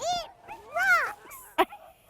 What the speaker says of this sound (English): Reese, how did you like your first time dog sledding?